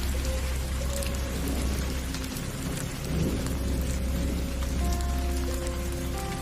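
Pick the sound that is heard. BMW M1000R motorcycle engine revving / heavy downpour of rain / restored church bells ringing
heavy downpour of rain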